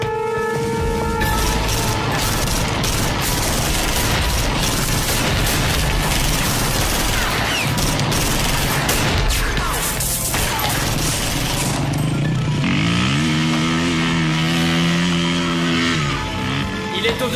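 A shootout in a French-language action film: dense rapid gunfire and booming impacts packed together over constant effects and score, with a stretch of sustained tonal music near the end.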